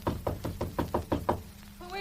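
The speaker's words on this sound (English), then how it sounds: "Knock on the door." Seven evenly spaced knocks on a door, a radio drama sound effect, sound loud and close before a voice follows.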